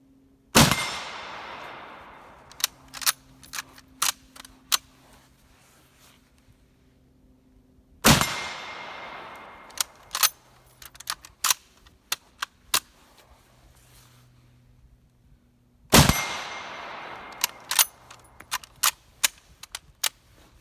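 A WW1 Imperial Russian Mosin Nagant M91 rifle fired three times at even intervals, each sharp report followed by a ringing tail and a string of metallic clicks and clatters as the bolt is cycled and a round fed.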